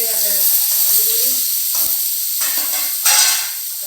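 Onions browned in oil with mustard seeds and cumin sizzle loudly and close in a pan while cooking okra in gravy, a dense constant crackle with a brief stir and a voice speaking over it.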